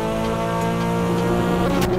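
A car engine in the Assetto Corsa driving game drones with a steady harmonic tone, with a few soft exhaust pops and crackles over it and a brief burst near the end, and no one talking.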